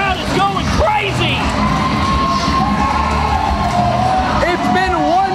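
A wrestling crowd roars and cheers loudly and without a break, with whoops and shouting voices rising over a dense wall of crowd noise.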